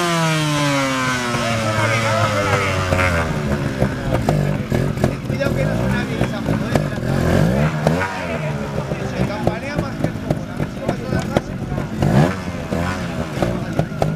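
A trial motorcycle at an Arnedo trial event revs and accelerates, its engine rising and falling with clattering bursts across the whole stretch, while people talk over it.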